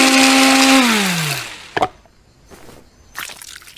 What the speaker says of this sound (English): Well, then put it in the blender.